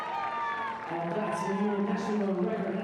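Crowd at a women's pole vault event at the European Team Championships, with Lithuanian fans cheering loudly and steadily, a broad roar of voices that swells in the second half.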